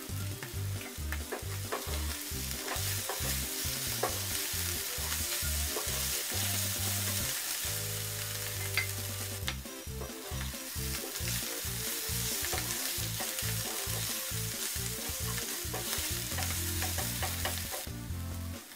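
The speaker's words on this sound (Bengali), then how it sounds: "আবারও নাড়াচাড়া করে নিব ও হালকা আঁচে ভেজে নিব সময় নিয়ে নিয়ে।" Bitter gourd and onion frying over low heat, a continuous close sizzle with repeated rhythmic scraping and clinking as the pan is stirred and turned, no voices.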